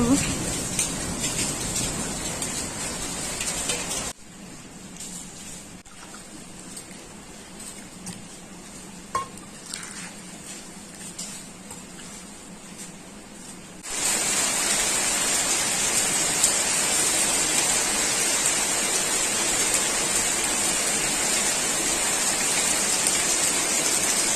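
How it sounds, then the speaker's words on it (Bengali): Steady rain hisses loudly, dropping to a quieter, muffled patch in the middle before the full downpour returns. "বৃষ্টি হচ্ছে কি সুন্দর"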